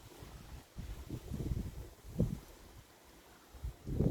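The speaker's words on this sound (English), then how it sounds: "It's very, very windy, mind." Gusty wind buffets the microphone in low rumbling bursts that rise and fall irregularly, with quieter gaps between gusts.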